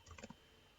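A few quick keystrokes on a computer keyboard, faint and close, a short burst of light clicks followed by quiet.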